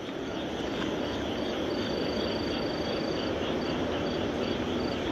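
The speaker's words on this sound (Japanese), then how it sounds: "メスキンヒバリが鳴いてますね、" Kinhibari crickets chirping outdoors: a dense, steady insect chorus with a thin, high, on-and-off trill running through it, with no voices.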